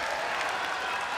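A sellout crowd in the Singapore Indoor Stadium applauds steadily before a World Atomweight Muay Thai title main event, a dense, even wash of clapping with no break.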